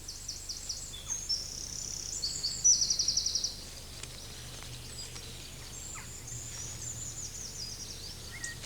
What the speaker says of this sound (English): Jackdaws,